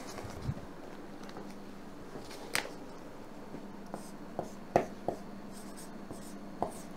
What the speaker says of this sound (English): Okay, so I'll write it down.